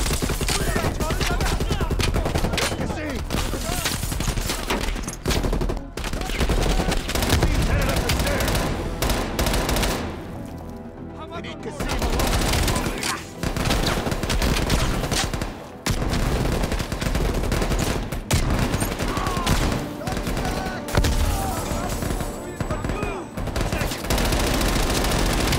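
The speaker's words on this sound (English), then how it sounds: "Trying to shoot the guy past Woods, not Woods himself" Rapid automatic gunfire in the video game Call of Duty: Cold War, loud, dense bursts running almost continuously with one brief lull, under occasional talk.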